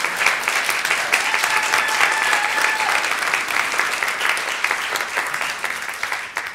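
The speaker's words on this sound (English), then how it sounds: "Y'all just clapping because we're still in the honeymoon phase." Church congregation clapping in sustained, dense applause during a Sunday service, loud and continuous for several seconds before easing slightly toward the end, with no talking.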